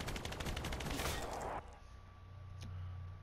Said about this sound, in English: And that sentry gun, that thing's brutal.